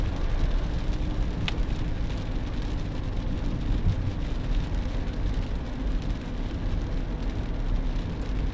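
Rain drums steadily on a car during a rainy-day drive, a dense, even patter over a low road and engine rumble, continuous with no talking.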